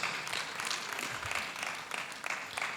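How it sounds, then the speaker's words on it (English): Audience applause for panelists at an international education conference, a steady wash of many clapping hands at moderate volume, fairly even throughout with small surges and no speech over it. "Please, can we give them a bigger round of applause?"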